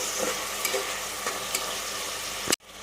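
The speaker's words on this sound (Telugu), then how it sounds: "ఈ ఎండు రొయ్యలు మనం ఇలా ఉల్లిపాయల్లోనే వేయించుకుంటే బాగుంటుందండి" Dried prawns fry with onions in a pan for a jackfruit curry, sending up a constant, close crackling sizzle punctuated by light stirring knocks, ending in an abrupt cut.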